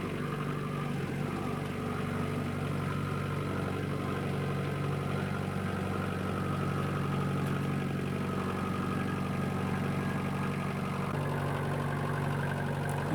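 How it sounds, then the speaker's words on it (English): A small Alpine tractor engine runs steadily throughout with a low, droning idle, close by and fairly loud, with no speech. "I had this little Alpine tractor for about 12 years"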